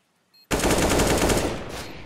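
Rapid automatic gunfire from the video game CS:GO during a professional esports match, a loud dense burst that begins abruptly and holds steady for over a second before tailing off slightly, with no talk over it.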